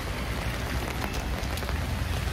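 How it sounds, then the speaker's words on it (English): Steady rain falls on a street in Palermo, Sicily, a continuous dense hiss of drops hitting pavement close by, with no voices over it. "So I think this must be like the third day of rainy conditions here in Palermo"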